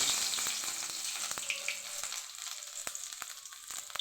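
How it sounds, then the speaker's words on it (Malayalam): Ginger sizzles in hot oil for a chicken masala curry, a dense hiss of frying close up with a few scattered clicks and pops, steady throughout and free of talk. "എണ്ണ ചൂടായി. നമുക്ക് ആദ്യം ഇഞ്ചി ഇട്ട് കൊടുക്കാം."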